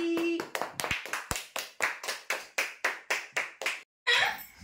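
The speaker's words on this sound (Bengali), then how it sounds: "হাততালি" About a dozen sharp hand claps at a birthday celebration in a steady, even rhythm, close and fairly loud, followed by a brief pause and a burst of noise.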